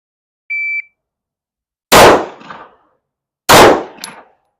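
Two sharp, loud Glock 19 handgun shots on a shooting range, spaced about a second and a half apart, each followed by a short echoing tail, with a brief electronic beep from a shot timer beforehand.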